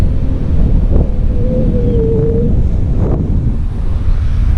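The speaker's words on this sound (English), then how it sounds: "There's the ocean." Wind and ocean surf at the shore by an open parking lot give a loud, constant rumble with gusty buffeting. A faint whistling tone rises briefly midway.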